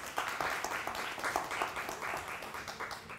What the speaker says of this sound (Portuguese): Vai, aplauso todo mundo.